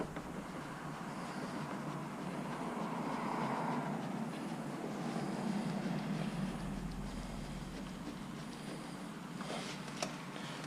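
An air compressor hose blows a steady, loud rush of air while fitting motorcycle handlebar grips, a continuous broadband whoosh that swells and shifts slightly, with no talk.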